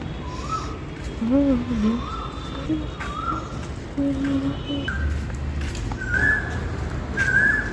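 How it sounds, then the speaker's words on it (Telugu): An Asian koel repeatedly gives rising whistled calls, several in sequence, over a background with other faint bird sounds and low noise. "కోయిల కూ అంటుంది కదా, అది మీరు వినాలని పెట్టినాం అన్నమాట"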